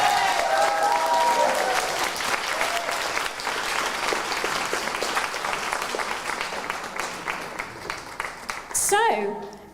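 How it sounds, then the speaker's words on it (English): Sustained applause from an audience at the Learning Disabilities and Autism Leaders' Awards 2025 ceremony, a dense steady clapping that fills the whole stretch before fading, with a voice briefly rising at the end. "Can we have a big round of applause"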